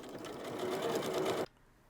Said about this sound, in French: Piquez à 1 cm du bord.